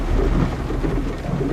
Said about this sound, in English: 3 days before the crash, heavy rains began.